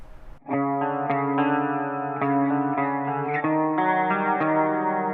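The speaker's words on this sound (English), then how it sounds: "there's that minor second interval, very dissonant, which gives it a really spooky sound." An electric guitar plays a dissonant, eerie riff built on minor second intervals, ringing, clashing notes picked repeatedly and sustained, loud and close with no voices.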